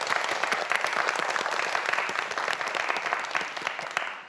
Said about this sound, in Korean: 김창기 학생에게 다시 한번 큰 박수 부탁드립니다.